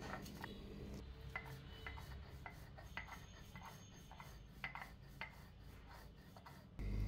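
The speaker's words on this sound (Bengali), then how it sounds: "প্রথমে আমি পাটায় শুকনা মরিচগুলো ভালোভাবে বেটে নেব।" Dried chillies are ground on a stone grinding slab for a chanda fish bharta, making faint, steady rhythmic rubbing and rasping strokes with small scraping clicks.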